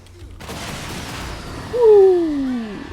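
A Dwarfen rocket volley fires in Total War: Warhammer 3, a low rumbling barrage rising to a swell with whistling, descending rocket trails streaking overhead, loud and close.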